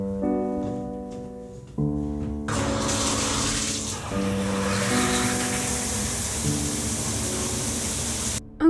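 Water runs from a bath shower at home, a steady close rushing hiss that starts a couple of seconds in and continues, with sustained tonal hum underneath.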